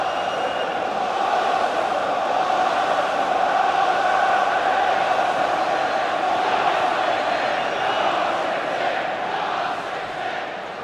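A simulated stadium crowd in the FIFA 15 video game, at an Arsenal versus Manchester City FA Community Shield match, keeps up a steady, dense roar and murmur of many voices through the whole stretch.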